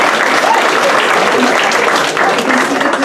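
A sports banquet crowd applauds warmly, many hands clapping in a loud, continuous wash close by, with a few voices faintly audible beneath the clapping.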